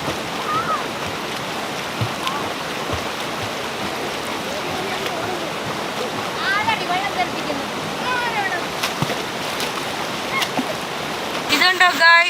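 Urulikkund waterfall rushes in a steady, broad roar of flowing water, continuous and fairly loud, with people's voices and calls mixed in above it.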